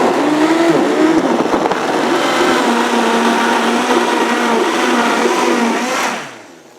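A blender mixes a green smoothie with a loud, steady whirring motor close by for about six seconds, then winds down and stops.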